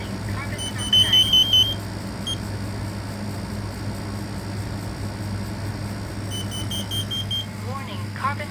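Smoke and carbon monoxide alarms from a home alarm system test keep sounding in a room, bursts of high beeping repeating near the start and again later over a steady low hum.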